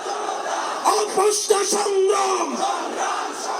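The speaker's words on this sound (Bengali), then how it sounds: "তখন সবার কণ্ঠে আন্দোলনের সেই স্লোগান" A crowd at a political party rally in Bangladesh chants a protest-movement slogan in unison, loud and close, voices blending into a sustained roar with rising shouted peaks.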